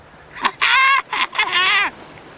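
A Madagascar parrot gives loud, harsh squawks, a short burst followed by two longer raucous calls, close and alone.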